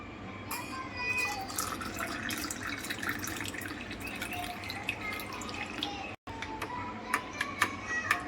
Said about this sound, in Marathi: 2 चम्मच पन्नेमध्ये 1 ग्लास पाणी घालूया।